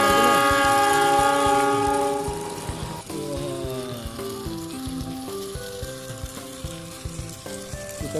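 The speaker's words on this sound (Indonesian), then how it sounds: "Wow, keretanya langsung berjalan teman-teman." A small Thomas toy steam train clatters along steadily with a continuous mechanical hum and faint rattling, accompanied by a tonal melody, no voices.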